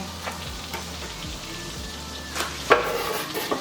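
Butter and garlic sizzle in a pan over lowered heat while pasta is made, a soft steady crackle with a few louder spits and pops near the end, close by and without talk.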